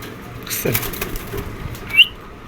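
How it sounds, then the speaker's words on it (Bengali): Shallow pigeons at a pigeon market give a brief burst of wing flapping, followed by a short sharp chirp, against a faint background hum. "কোয়ালিটি ফুল একজোড়া শ্যালো কবুতর"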